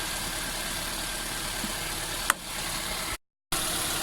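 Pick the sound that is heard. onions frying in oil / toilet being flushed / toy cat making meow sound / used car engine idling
used car engine idling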